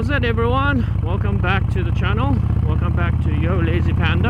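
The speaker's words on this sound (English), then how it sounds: "due to the exhaust noise in the background" Someone talks loudly and continuously over a steady, low rumbling Harley-Davidson motorcycle exhaust drone running beneath his voice throughout.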